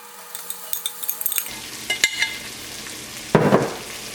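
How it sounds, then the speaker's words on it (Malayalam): Okra hits a pan of sizzling oil and turmeric and is stir-fried for a coconut thoran. Faint clinks come first, then a sudden loud sizzle with utensil knocks and a burst of stirring near the end. "ഇതിലേക്ക് വെണ്ടക്കായ ചേർക്കാം"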